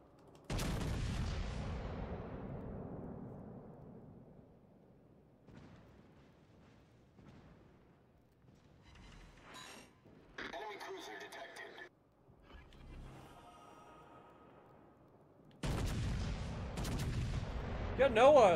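A Stalingrad battlecruiser's main guns fire in World of Warships Legends, heavy booming salvos that open and close the stretch, separated by quieter rumbling and distant shell impacts.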